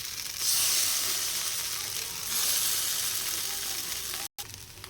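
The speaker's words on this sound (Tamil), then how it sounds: "தவா ஹீட் ஆனோடனே நம்ம இதை இப்படியே வச்சு சுட்டு எடுக்க வேண்டியதான்." Paneer slices sizzle in oil on a hot tawa, a steady close hiss that swells briefly and cuts out for a moment near the end.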